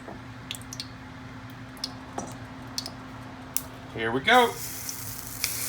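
Pancake batter hits a hot pan and sizzles in a short hissing burst after a few soft clicks and taps, with someone speaking briefly nearby.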